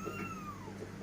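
A house cat meows once, a drawn-out falling cry near the start over a quiet kitchen background.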